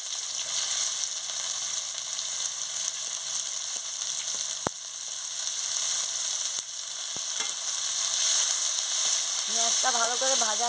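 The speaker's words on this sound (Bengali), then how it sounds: "পেঁয়াজটা ভালো করে ভাজা হয়ে যায়" Chopped onions and whole spices sizzle hard in hot oil in a pan while jackfruit curry is cooked, a steady close crackling hiss with a few sharp spoon clicks against the pan.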